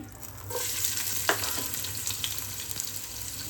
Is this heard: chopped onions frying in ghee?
yes